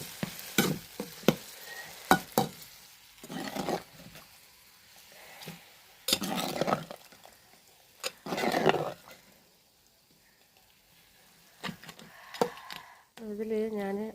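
Curry ingredients, including field crab, are stirred and frying in a hot pan, giving bursts of sizzling and scraping separated by quieter pauses, with someone speaking in between.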